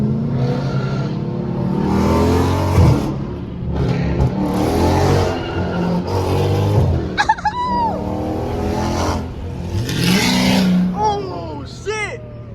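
A loud Dodge muscle car, a Scat Pack or Hellcat, revs hard and roars past up close in repeated surges, with people shouting and talking over it.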